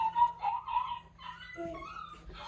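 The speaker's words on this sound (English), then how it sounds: "So the noises that you're hearing right now is from our Alexa. It's called Sounds That Drive Dogs Crazy." An Alexa smart speaker plays a track of sounds meant to drive dogs crazy: high whimpering, yipping dog-like cries and squeaky tones in short bursts, fairly faint indoors.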